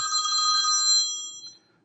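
A phone rings during a live stream, one bright electronic ringtone burst lasting over a second and then fading out, fairly loud and alone.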